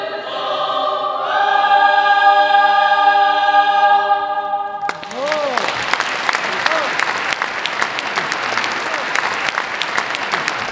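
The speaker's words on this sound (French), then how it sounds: "le public est nombreux et ne cesse d'applaudir" A boys' choir holds a sustained sung chord in a concert hall, then an audience bursts into loud, dense, continuous applause that carries on for several seconds.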